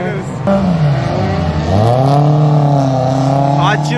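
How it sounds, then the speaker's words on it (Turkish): Cars drifting at a nearby track in the rain, loud engines revving up and down with rising and falling pitch close by, while a voice talks over the noise. "Drift varmış yan tarafta"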